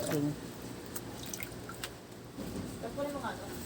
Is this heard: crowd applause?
no